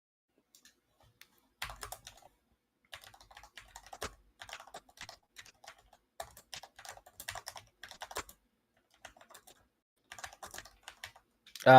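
Quiet bursts of typing on a computer keyboard while notes are written down during an online meeting, with irregular runs of key clicks and pauses, alone with no talk.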